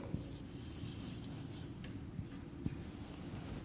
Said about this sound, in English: Look at the board. I am writing here praise.